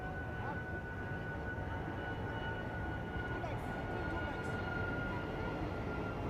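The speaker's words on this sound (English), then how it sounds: "familiar sound that you're hearing right now. So those planes flying in and out of RDU" Airplanes flying in and out of nearby RDU airport during an outdoor MiLC cricket semi-final, a steady, broad engine rumble that holds at a constant level throughout, with no voices.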